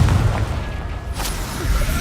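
Confringo explosive spell cast in the video game Hogwarts Legacy: a deep rumbling boom with a burst of noise, loud and sustained over about two seconds, no speech.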